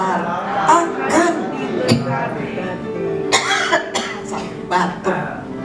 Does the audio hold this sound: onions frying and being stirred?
no